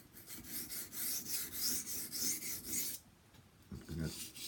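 A kitchen knife drawn across a coarse 220 grit whetstone under light pressure, making steady rhythmic rasping strokes, about eight in quick succession, then a pause and a couple more near and clear.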